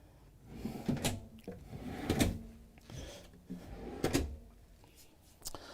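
Several wooden drawers slide open and shut in turn inside a 2022 Renegade Classic 45CMR-XM Super C motorhome, each with a soft rumble and a knock, close by with a quiet room between.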